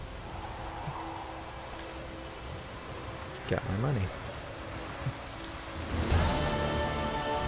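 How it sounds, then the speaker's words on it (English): Steady rain falling in The Witcher 3: Wild Hunt, a soft hiss beneath game music and effects, with someone talking briefly over it. "And now it's raining."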